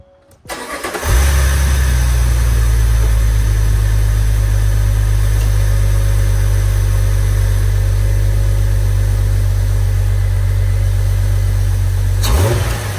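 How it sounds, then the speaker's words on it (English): A 2004 Jeep Wrangler LJ engine, fitted with a Rough Country cold air intake, cranks and catches, then settles into a loud, steady idle with a deep low rumble that holds without a break. "we're gonna give her her first start since installing it"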